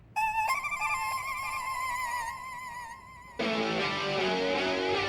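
An electronic phone ringtone chirps in steady harmonic tones, then shifts abruptly into a louder, harsher buzzing ring that continues to the end.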